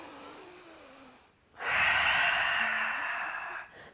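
Fast, forceful breaths in and out during a live Pilates class workout, a rapid exhale burst then a long loud breathy rush, close and alone with no talk.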